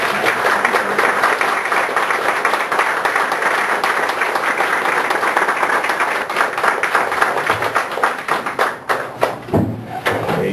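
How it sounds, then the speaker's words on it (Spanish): An audience at a book presentation gives a sustained ovation, dense clapping filling the room steadily for about ten seconds before thinning into scattered louder claps near the end. "para un minuto de aplauso y de ovación"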